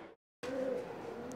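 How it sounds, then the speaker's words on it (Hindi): Pigeons cooing nearby in a steady low murmur, with a short silent gap before the sound resumes and carries through to the end. "मुझे कबूतर बहुत अच्छे लगते हैं।"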